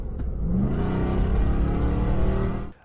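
A RAM 1500 TRX pickup truck engine revs hard up close, a loud rising roar that holds steady before cutting off abruptly at the end.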